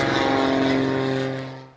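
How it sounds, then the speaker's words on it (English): An airplane passes overhead outdoors, a steady droning engine hum with strong tonal layers that holds loud throughout and then fades toward the end. "we have a plane going overhead that's ruining the shot"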